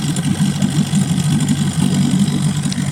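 An outboard engine on a small Seago 320 inflatable boat runs steadily up close, a loud throbbing idle with a regular low pulse and no voices over it.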